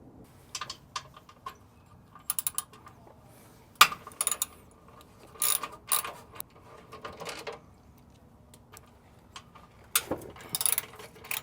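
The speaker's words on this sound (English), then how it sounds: "There's another one back here that you're going to have to remove. There's 4 bolts on this one as well." A ratchet clicks in short bursts while the skid plate bolts come off a 2024 Toyota Tacoma, with scattered metallic ticks and clanks between quiet pauses.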